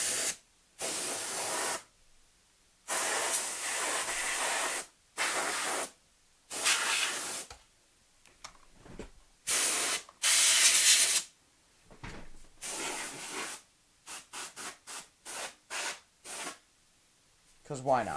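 Computer components inside an open PC case are dusted with a spray can in a series of short, loud hissing bursts separated by brief silences, coming faster and choppier toward the end.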